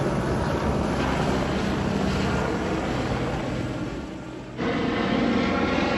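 A helicopter flies over the Guadalupe River during a search after a Texas flash flood, its engine a steady, distant drone that dips briefly before returning to full strength.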